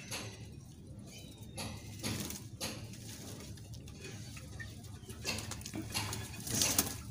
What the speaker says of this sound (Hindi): सारे कबूतरों ने दाना खा लिया है, पानी पी लिया है